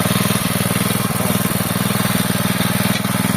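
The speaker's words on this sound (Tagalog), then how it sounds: "Pinandar na naman yung motor." Motor on a water well drilling rig during a hydraulic conversion job, running steadily with a loud, rhythmic chugging pulse like a small engine, near and constant throughout.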